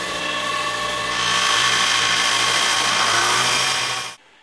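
An all-ceramic ball bearing test fixture spins at high speed on an external drive. It gives a loud, steady whine with tonal ringing that holds for about four seconds, then cuts off abruptly.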